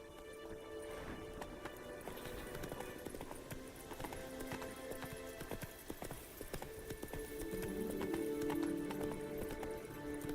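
Galloping horse in The Witcher 3, a steady rapid clip-clop of hooves with game background sounds and a rider's brief calls, growing somewhat louder toward the end.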